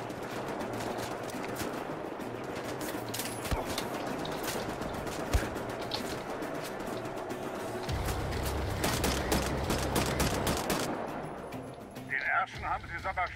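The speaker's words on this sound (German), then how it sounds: "Kommt von überall verdammt nochmal Schüsse." Gunfire from the video game Wolfenstein, a dense fusillade of machine-gun bursts with scattered single shots, mixed with game sounds and continuing under someone talking.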